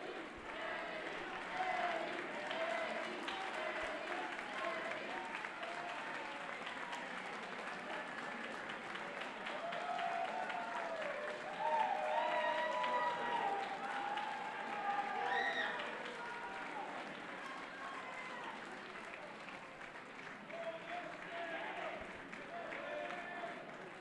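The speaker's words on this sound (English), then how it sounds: "the fans on their feet applauding both men" Wrestling fans at a 2CW show give a sustained ovation after a submission finish, steady applause and crowd noise filling the hall throughout with occasional whoops, loud and continuous.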